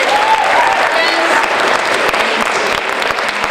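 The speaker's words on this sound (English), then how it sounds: "Let's give them a round of applause." Sustained audience applause fills a high school poetry slam, dense steady clapping throughout with crowd noise underneath, loud and continuous for several seconds.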